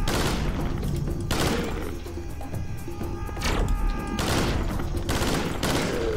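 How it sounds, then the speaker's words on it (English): A Vector submachine gun in the Serious Sam 3 video game fires several loud, close rapid bursts separated by short pauses, with metallic mechanical clicks in the gaps. "A full mag of the vector can kill them"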